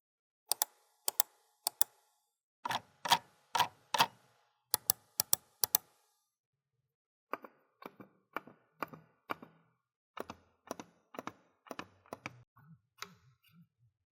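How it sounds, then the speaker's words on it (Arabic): Logitech M650 silent mouse clicks alternate with louder regular mouse clicks, heard as sharp isolated ticks in small clusters and pairs, close and alone against a quiet background. "فاسمعوا مقارنه كده ما بينها وما بين اصوات الكليكات"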